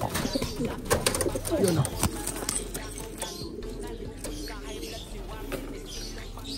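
Pet pigeons coo close by as they are let out, with soft chirps and a flurry of wingbeats, while a person speaks briefly.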